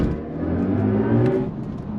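Electric BMW pulling away under hard acceleration, a steady rising whir with road and tire noise, fairly close and continuous for a couple of seconds.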